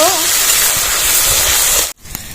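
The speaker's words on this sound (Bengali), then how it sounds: "এবার এর সঙ্গে টমেটোটা ভালো করে ভেজে নেব" Chopped tomatoes frying in a hot pan with potato and onion, a loud, steady sizzling hiss up close that breaks off abruptly near the end.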